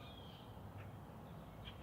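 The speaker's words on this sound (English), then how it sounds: "listen to the birds. Because the birds are back, for sure." Birds calling outside a garage on a cold morning, a couple of faint, distant caw-like notes over a steady low background hum.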